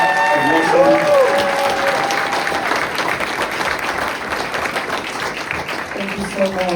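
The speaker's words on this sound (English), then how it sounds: "huge round of applause for Conrad, for Andra, for Pat, for Wilson" A crowd applauds panelists at a New York City panel on politics and community action, with steady dense clapping filling the room throughout and voices talking over it near the start and end.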